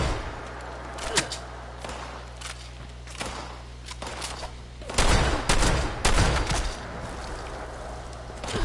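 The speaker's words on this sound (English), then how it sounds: "See, I'm using a shotgun, just like I was showing in Red Dead." Shotgun blasts in the video game Fallout 76 on PlayStation 4, several sharp bursts spaced irregularly over a rumbling game background, the loudest cluster coming midway.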